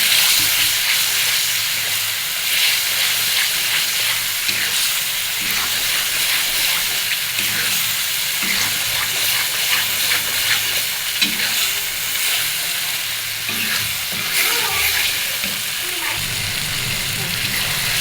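Masala spice paste frying in a pan for a chicken curry makes a loud, dense, continuous sizzle with occasional stirring scrapes, close and steady throughout.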